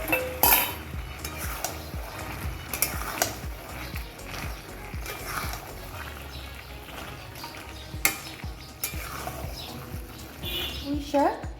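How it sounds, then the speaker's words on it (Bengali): Eggplant pieces go into a hot pan and are stirred and fried, with utensil scrapes and pan knocks over a steady sizzle. Speech is present throughout, along with a few clinks of cookware. "এই দিয়ে দিলাম বেগুনগুলো, যেগুলো আমি তুলে রেখেছিলাম।"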